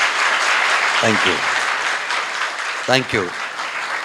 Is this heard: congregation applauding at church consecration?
yes